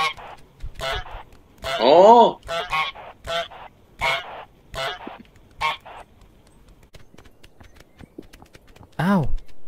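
Cartoonish goose honks from Untitled Goose Game, several loud nasal honks spaced unevenly through the stretch, mixed with quick bursts of speech from players talking over the game.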